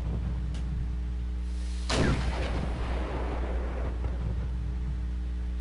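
Gunfire from units in the Wargame multiplayer war game: one sharp, loud blast with a rumbling, fading tail stands out over a low, steady background drone.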